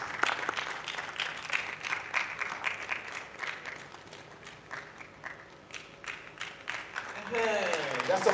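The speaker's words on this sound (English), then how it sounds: "Round of applause." Audience applause at a live aquaculture development event, scattered sharp claps rising and falling in bursts, with a voice speaking over it near the end.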